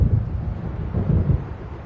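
A thunderstorm rolls in over open water in the video game Alan Wake, a low continuous rumble with gusting wind that swells and fades without a break.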